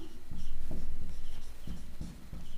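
Pen scratching on paper as math is written out in Hindi class, short rhythmic strokes and rubbing close up, steady and fairly loud with no voice over it.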